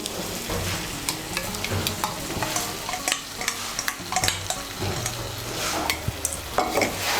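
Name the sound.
stirring sour yogurt into masala in a pan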